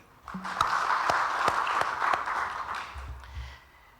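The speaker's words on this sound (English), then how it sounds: "Can we clap again?" Audience clapping after a presentation at a regional learning opening session, a steady wash of applause from a modest crowd with a few sharp louder claps, tapering off near the end.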